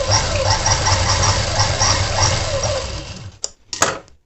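Sewing machine stitching the neck lining of a blouse, a fast rhythmic mechanical whirr running steadily for about three seconds, then stopping with a couple of brief clicks and handling sounds.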